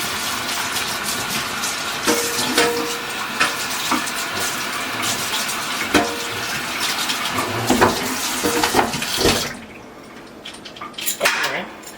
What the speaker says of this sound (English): I'm gonna wash this trap off actually.